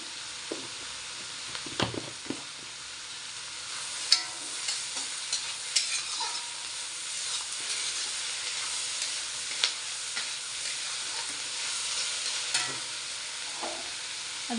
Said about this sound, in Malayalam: ഇതൊന്ന് വഴന്ന് കിട്ടാനായിട്ട് നമുക്ക് കുറച്ച് ഉപ്പ് ചേർത്ത് കൊടുക്കാവേ.